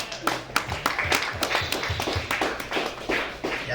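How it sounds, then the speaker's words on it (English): A crowd claps for the late Rico Wade at a lecture, steady scattered clapping that carries on for a few seconds with sharp individual hand claps standing out and faint voices underneath. "Can we give him a round of applause, please?"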